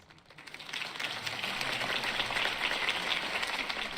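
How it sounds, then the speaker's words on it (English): Crowd applause at a political campaign rally in Batman: The Telltale Series video game, swelling from quiet to a sustained, fairly soft wash of clapping. "could have heard that applause"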